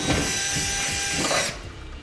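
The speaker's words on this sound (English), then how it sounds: "we're going to drill a pilot hole from the top down" A power drill with a long bit bores a pilot hole down through a pickup truck bed, a steady loud whine and grind that cuts off near the end and leaves a quieter rattle.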